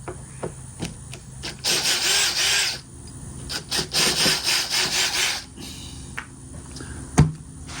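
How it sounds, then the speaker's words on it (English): Square drive screwdriver backing screws out of a motorhome window frame: repeated rasping, grinding bursts of turning with short clicks and pauses between, close and fairly loud. "So we're just gonna start getting these screws out of here."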